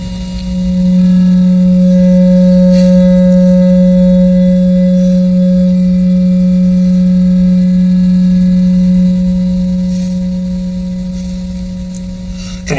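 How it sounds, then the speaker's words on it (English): Two steady electronic tones, one low and one higher, sonified from X-ray telescope data from the Swift spacecraft, drone together continuously with a faint hiss, fading slightly toward the end. "what we'll play now is the sound of the data from an X-ray telescope"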